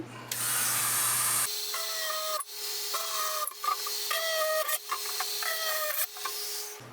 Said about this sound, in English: drill 1 more hole right here